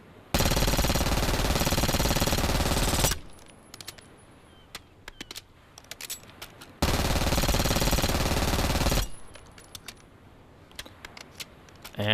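Compact 92 submachine gun from Black Ops 6 fires two long sustained bursts of rapid automatic fire, each about three seconds, loud and close, with scattered metallic clicks and clinks between them.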